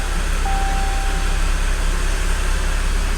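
A Ram pickup truck engine with a 4WD system fault runs at a steady, loud idle, a constant rumble with a faint whine and no talking over it.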